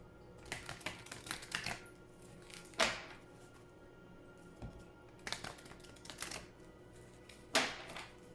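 Quick bursts of tarot-style oracle cards riffling and shuffling close by, in irregular clusters with a few sharper snaps and pauses between them.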